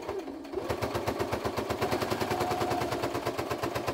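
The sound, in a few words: Fortuna F09C sewing machine stitching leather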